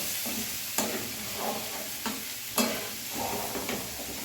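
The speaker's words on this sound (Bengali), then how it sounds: "মশলাটা ভালোভাবে কষে নেব।" Ground cumin, coriander, Kashmiri chilli and turmeric frying in a pan over low to medium flame, a close, steady sizzle broken by a few spatula scrapes.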